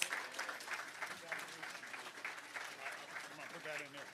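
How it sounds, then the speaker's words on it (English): Applause at a citizens' recognition awards ceremony, a steady wash of clapping from an indoor audience lasting throughout, fairly quiet and even, with no clear break. "Come on, give him a big hand of applause"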